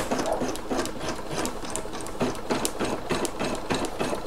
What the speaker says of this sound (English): Let's hit go. And we're going to let that stitch out.